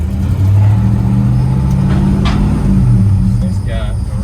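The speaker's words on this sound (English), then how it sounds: "taking the 63 Ranchero for a spin" 1963 Ford Ranchero with a small V8, about 260 cubic inches, out on a drive: a loud, steady, low engine rumble heard from inside, with a slight rise in revs, under someone talking.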